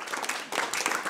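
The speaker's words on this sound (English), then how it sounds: "Stephanie, Olga, Anna and Peter, one round of applause for them." Brief burst of audience applause at an architecture event, a dense patter of many hands clapping at moderate volume, with a short dip in the middle.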